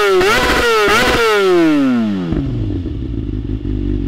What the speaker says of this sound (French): Le son quant à lui est vraiment top. Vous avez remarqué que vous avez un petit paf à l'échappement.